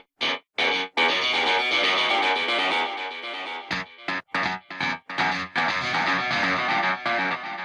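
A synthesizer playing single notes through a distortion effect plugin, gritty and buzzing, sustained tones with a few short stabs and gaps in between, loud and upfront with no talking.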